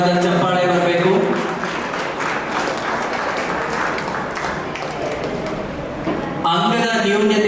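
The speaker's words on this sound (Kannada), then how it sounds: "ನಿಮ್ಮ ಜೋರಾದ ಚಪ್ಪಾಳೆ ಬರಬೇಕು" An audience at an award ceremony applauds in a dense, steady wash of clapping that carries through most of the stretch, with a voice speaking over the start and end.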